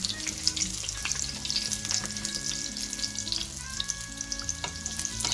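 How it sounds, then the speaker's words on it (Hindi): Chicken chapli kababs deep frying in oil in a pan over medium heat give off a steady, dense crackling sizzle, close and loud throughout with no talking. "साइड चेंज करने के बाद तकरीबन 10 मिनट तक मीडियम आंच पे फ्राई करेंगे ताकि ये डीप फ्राई हो जाए।"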